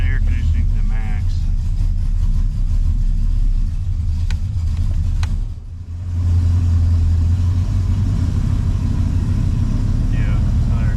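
A 1988 Chevy Caprice with a big camshaft idles with a deep, lopey rumble under people talking inside the car. The rumble briefly dips midway, then swells back stronger.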